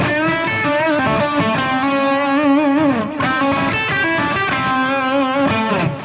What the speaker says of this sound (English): if we play, let's say, a minor lick and then switch major, you hear it brighten